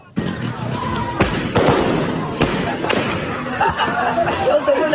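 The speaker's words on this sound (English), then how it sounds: "See, those are live bullets, which is illegal." Live gunfire at an Angolan street protest, with several sharp loud cracks ringing out over a steady crowd din and chatter, spaced irregularly through the scene.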